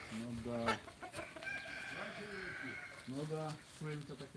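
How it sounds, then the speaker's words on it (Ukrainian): Clucking hens, ducklings and geese calling close by on a farm, overlapping in short bursts with people talking over them. "Так, кури, утятки, гуси."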